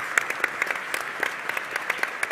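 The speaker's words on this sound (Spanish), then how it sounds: "Un aplauso para los panelistas que se lo merecen realmente." An audience at a business technology forum in Argentina applauds the panelists, a dense, steady patter of many hands clapping at once, fairly close and with no talk over it.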